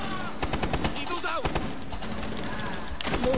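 Rapid gunfire in a video game, shots punching through a barricade in several quick bursts of sharp reports, loud and close, with faint voice chatter in the background.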